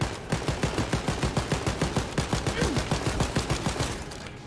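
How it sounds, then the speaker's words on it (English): Rapid, evenly spaced gunfire from the Wolfenstein Youngblood shooter game, about a dozen sharp reports per second sounding continuously and loudly with no talking over it. "Let's use my sniper now."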